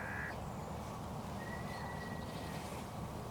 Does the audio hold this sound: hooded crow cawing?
yes